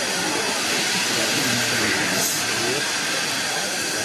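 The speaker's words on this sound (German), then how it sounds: "Also die Drehscheibe dreht sich jetzt, damit die Dampflok mal den Fahrer rausfahren." A steam locomotive sits on a rotating railway turntable, giving off a loud, continuous hiss of steam with an underlying mechanical rumble, steady for several seconds, while a person talks under it.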